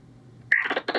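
Found-footage horror signal resembling Morse code: after half a second of near silence, a sudden loud tone bursts in, followed by a series of short, uneven pulsed beeps close up and alone.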